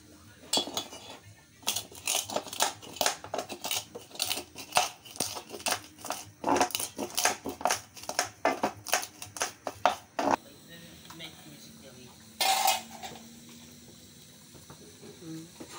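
Vegetables such as tomatoes and aubergines for an Ivorian attiéké sauce get crushed with rapid, irregular knocks and scraping clinks in a pot or mortar, loud bursts that stop for a brief pause, then one more.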